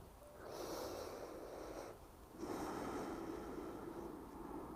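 Two long, forceful breaths during a yoga flow, close and airy with a snort-like rush, the second following a brief dip in loudness; no talk.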